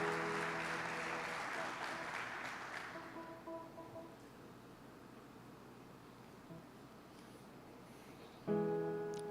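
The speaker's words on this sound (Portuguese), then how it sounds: "Dá uma salva de palmas para Jesus." Church congregation clapping in praise of Jesus, a moderate burst of applause that fades out over a few seconds, followed by quiet room tone and then a brief swell of sound near the end.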